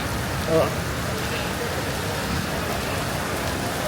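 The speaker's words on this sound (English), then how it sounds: "It's raining." Steady rain pours down in Kuala Lumpur, a dense, even hiss of drops striking surfaces that fills the whole scene at a constant moderate loudness, with no voices over it.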